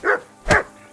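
A dog in the medieval video game Kingdom Come Deliverance 2 gives two quick barks, close and clear, the second sharper and louder.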